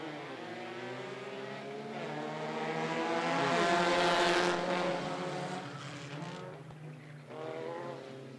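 Front-wheel-drive race cars at Toccoa Speedway roar past in a pack, engine whine swelling to a loud peak mid-clip and then fading as they move away.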